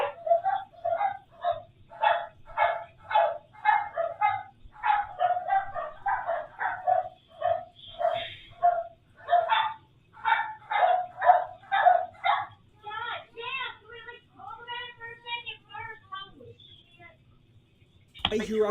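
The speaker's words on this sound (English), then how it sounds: "Our dogs are barking." Dogs bark in a fast, steady series of loud, close yaps, several dogs overlapping, with a brief pause and a few whiny yips near the end.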